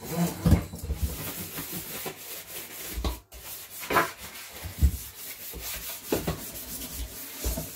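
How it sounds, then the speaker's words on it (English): Scrubbing food residue off the side of a kitchen sink with a handheld scrubber, a series of close, uneven rubbing strokes with brief pauses between them. "literally going to scrub any food items off the side"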